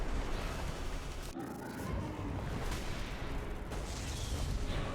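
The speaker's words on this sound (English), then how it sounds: "I thought it would be more of a lingering aura explosion, but guess not." Wave Pounder weapon explosions in Terraria with the Infernum mod make a dense, continuous wash of rumbling blasts and crashing noise with no pauses, and no one speaks.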